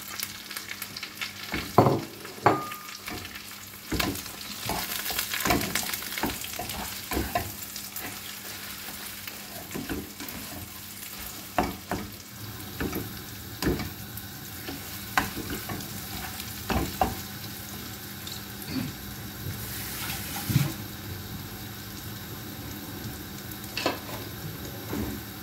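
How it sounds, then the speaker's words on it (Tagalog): Ground meat sautéing in a pan, a long continuous sizzle broken by frequent clacking stirs and scrapes of the utensil, close and steady with no talking. "Yan karne yung giniling, guys. Yan, igigisa natin ngayon dyan."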